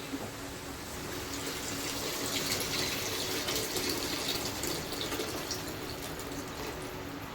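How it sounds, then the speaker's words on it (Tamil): A steady stream of tamarind water pours into a cooking pot, an even gushing splash close by with no voices. "புளியை ஊற வச்சிங்கன்னா ஊற்றிடுவோமா?"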